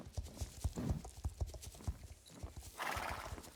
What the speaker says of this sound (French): Donc, on va galoper autant qu'on peut.